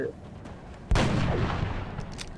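A single loud gunshot-like blast from the XCOM Long War video game, a sharp onset followed by a sustained rumbling decay over a low background.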